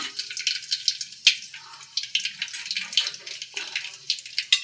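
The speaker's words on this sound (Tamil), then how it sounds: "கடுகு நல்லா பொரியட்டும்." Mustard seeds crackle and pop in hot oil in a kadai, a close, lively series of sharp spitting bursts and sizzles that keeps going throughout.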